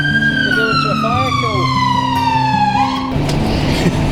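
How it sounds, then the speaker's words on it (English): Fire engine siren on a call, a loud close wail sweeping downward in pitch and then cutting off, over a rumbling engine and a beeping warning tone, with other traffic noise after. "But you hear the fire engine?"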